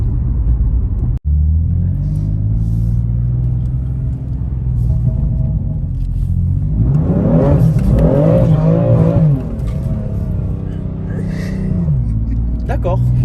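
A BMW M3 Competition engine rumbles low, then surges in a rising rev as it accelerates hard, with a person speaking French over the roar partway through.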